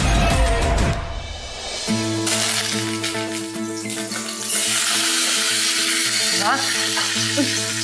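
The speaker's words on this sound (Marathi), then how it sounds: "छान फोडणी बसली." Spices crackle and sizzle in hot oil during tempering in a home kitchen, a loud, close, continuous frying hiss with a brief sharper burst at the start and a steady tone running underneath.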